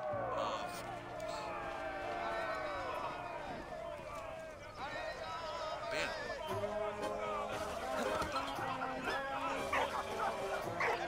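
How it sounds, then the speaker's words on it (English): A German dog barks in the Valiant Hearts video game, with several sharp barks scattered among game music and effects while a player talks over most of it. "There's a doggy Dogino"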